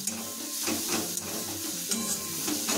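White prawns, 200 grams, frying in a kadai, a dense steady sizzle with repeated soft stirring scrapes at a close distance.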